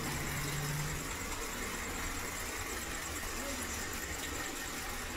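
A rebuilt TVS Stryker motorcycle engine, fitted with new rings and piston, runs steadily at idle with a continuous, even mechanical hum close by, broadband and unbroken throughout.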